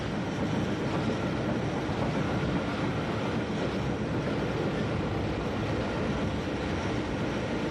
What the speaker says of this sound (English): Though the steam train catches up when the electric unit stops.